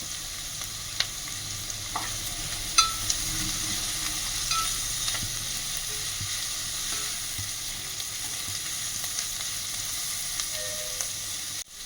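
Onions fry with cinnamon, cloves, star anise, cardamom and shahjeera in hot oil for a mushroom curry, a steady close sizzle with occasional spoon clicks and stirring scrapes, no voices.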